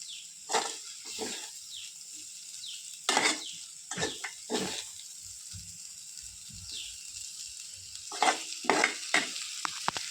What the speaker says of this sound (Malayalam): നല്ല രുചിയേറും ചെമ്മീൻ റോസ്റ്റ് റെഡിയായിക്കൊണ്ടിരിക്കുന്നു